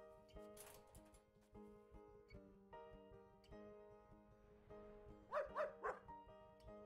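A dog in the game Animal Shelter Simulator barks in a quick burst of three or four loud yaps near the end, over steady game music.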